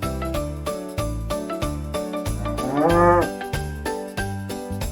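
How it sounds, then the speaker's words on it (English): A cow on a farm gives one long, loud moo midway through, set against rhythmic tinkling bell-like music that pulses steadily throughout. "We have a cow here. That's a cow."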